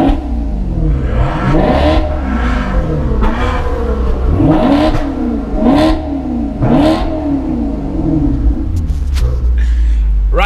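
A Maserati GranCabrio MC Stradale engine is revved repeatedly, loud and close, with rising and falling blips in an uneven rhythm, then it settles toward a lower rumble.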